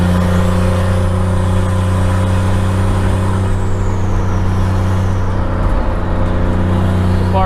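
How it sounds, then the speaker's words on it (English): Loud, steady engine roar from a turbocharged 1JZ-swapped Chevy Nova on its first test drive, heard from inside with a constant droning hum and a rising turbo whistle. "A lot of turbo sound."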